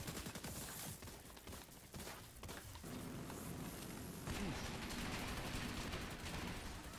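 Gunfire during an Iron Horse raid in The Division 2, sustained and dense throughout, with bursts layered over constant battle noise and heavier firing toward the end.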